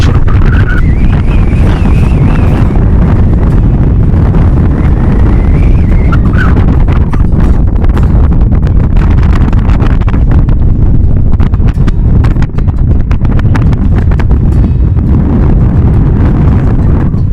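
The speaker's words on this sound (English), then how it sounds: "So what's the difference between the crazy wind in Churchill and Winnipeg?" Strong wind off Hudson Bay in Churchill, Manitoba, blasts the microphone as a loud, unbroken roar and buffeting rumble that lasts throughout, with a faint higher whistle early on and no speech.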